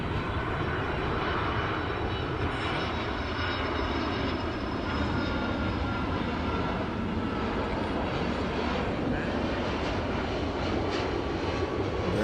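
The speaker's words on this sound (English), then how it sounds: "we hear a plane in the air right now" A steady, droning airplane engine roars overhead throughout, continuous and fairly loud with a broad rumbling hiss.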